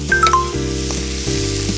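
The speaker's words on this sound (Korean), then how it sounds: "이렇게 마늘, 홍합 볶아주시고 버섯 넣어주시고요" Garlic, mussels and mushrooms being stir-fried in a pan produce a steady close sizzle, broken by a few light scraping stirs and small clinks, with no talking.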